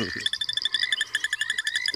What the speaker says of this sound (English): that's the tremolo sand frog that we've also got out this morning, which is making the higher click sounds